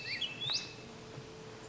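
Birds chirp in a backyard at night under a sky with Venus and the Moon, giving a few short high tweets and rising whistles, faint and distant against quiet background hiss with no talking.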